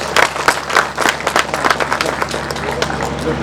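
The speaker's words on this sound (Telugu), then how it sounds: "గట్టిగా చప్పట్లు కొడదాం." Audience applause at an agricultural science product launch event, a steady wash of many hands clapping with dense, irregular claps sustained throughout at moderate volume.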